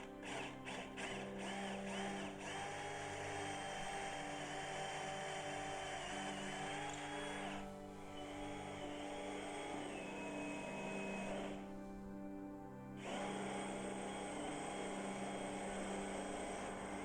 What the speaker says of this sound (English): Drills out, holes are going into the wall.